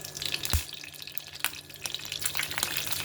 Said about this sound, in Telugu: తాలింపు వేస్తున్నాను.